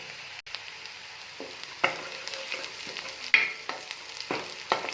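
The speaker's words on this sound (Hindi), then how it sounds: "और इसको अच्छे से हम मिक्स करेंगे ताकि ज़ीरा और लहसुन अच्छे से भुन जाए।" Cumin and chopped garlic sizzle and crackle steadily in a hot pan, with occasional scraping and stirring sounds of a utensil, close up and without voices.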